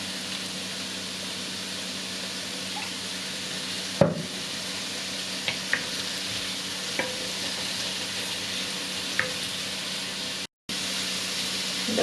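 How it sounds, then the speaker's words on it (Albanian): Shrimp sizzles steadily in hot oil in a pan, a constant close frying hiss broken by a few clicks and stirring knocks, with a brief dropout near the end. "Do t'i shtojmë vaj dhe do fillojmë t'a skuqem."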